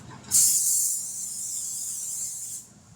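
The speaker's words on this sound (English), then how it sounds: "I'm going to spray that with a little bit of cooking spray so that dough don't stick." A single continuous spray of cooking spray hisses for about two seconds, close and fairly loud, then cuts off; no talking.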